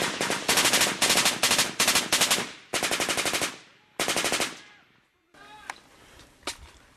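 Loud, close bursts of automatic machine gun fire in rapid rhythmic strings during an Australian combat contact in Afghanistan, several volleys separated by short pauses, followed by a few scattered single shots over a quieter background.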